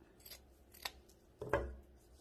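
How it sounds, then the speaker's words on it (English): Scissors snip through ribbon ends to cut a dovetail for a Christmas bow, a few quiet close cuts with one firmer snip near the end, no voices. "Fold in half, hold the ends up,"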